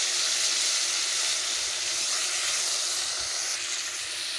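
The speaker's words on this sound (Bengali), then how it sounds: "তেলেই মাছগুলো ভালোভাবে ভেজে নেব দিয়ে দেবো মাছ" Fish, washed and rubbed with salt and turmeric, frying in hot oil in a kadai on a gas stove, giving a steady, loud, continuous sizzle and hiss that runs unbroken for the whole stretch.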